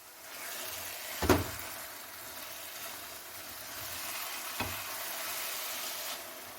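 Homemade pepper paste frying gently in a little oil gives a soft, steady sizzle, faint and close, broken by two sharp clunks of a pan or utensil.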